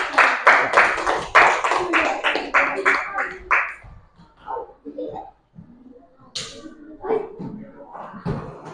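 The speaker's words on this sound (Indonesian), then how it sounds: "dan berikan tepuk tangan" Classroom clapping for a student group in an Indonesian school lesson, a quick rhythmic burst of many hands for about four seconds, then fading into scattered taps, shuffling and a few voices.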